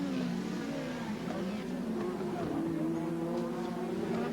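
Touring race cars at the 1989 ATCC round at Sandown drive along the back straight, a continuous droning engine roar with shifting pitch from a distance, under commentary.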